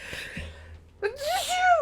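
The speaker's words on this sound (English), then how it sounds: "I'm going to sneeze, I think." A single sharp sneeze bursts out after a brief quiet pause, close and loud, with a rising breathy tail.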